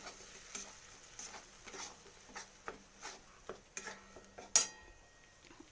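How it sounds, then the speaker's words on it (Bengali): A spoon stirs katla fish masala with turmeric and Kashmiri chili powder in a pan, soft sizzling under a steady rhythm of scraping strokes, with a sharper clink of metal near the end. "এটাকে আমি এরপর নাড়িয়ে নিলাম ভালো করে নাড়াচ্ছি দেখুন"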